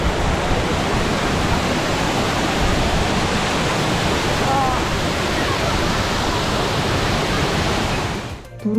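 Turga waterfall at Ajodhya Pahar in Purulia pours steadily, a dense continuous roar of falling water heard close and loud throughout, with a brief dip near the end.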